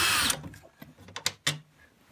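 Screws being removed from the back panel of a Mitsubishi TV, giving a few close, distinct metallic clicks and scraping ratchet-like turns after a brief burst of broadband noise.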